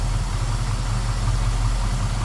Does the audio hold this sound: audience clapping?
no